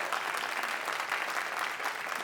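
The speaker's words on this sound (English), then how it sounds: "Yes, start clapping." An audience at a Houston Ballet talk applauds, a steady patter of many hands clapping at moderate distance, sustained evenly for a couple of seconds with no voices over it.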